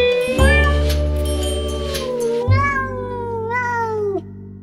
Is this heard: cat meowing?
yes